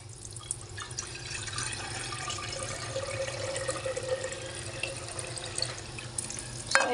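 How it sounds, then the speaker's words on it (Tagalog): Tap water runs into a pot being filled for boiling eggs, a quiet continuous splashing stream with faint drips, steady throughout with no one speaking. "Lagyan pa natin ng tubig."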